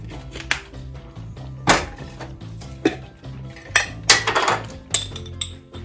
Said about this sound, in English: Make sure I stir it so that it doesn't start to burn